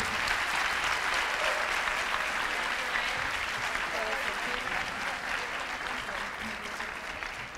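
Sustained, vigorous applause from a seated audience at a student panel, a thick continuous roar of many hands that holds strong and eases slightly toward the end, with faint voices mixed in.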